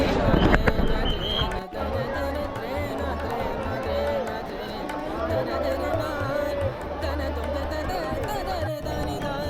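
A dense crowd gathered on the Ganges river bank for the evening Ganga aarti, a steady roar of overlapping chatter and voices close around, with occasional sharp pops and bursts cutting through the continuous din.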